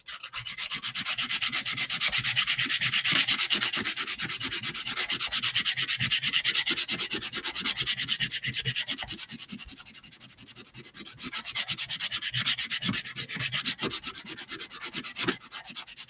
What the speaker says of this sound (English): This is really coarse sandpaper I've got.